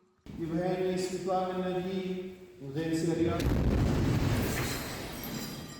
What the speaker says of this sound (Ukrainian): Момент вибуху лишився на відео, яке знімала одна з прихожанок храму